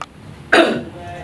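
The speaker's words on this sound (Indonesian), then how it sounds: "Batuk lo." A single sharp, close cough bursts out after a brief moment of near quiet, then fades quickly.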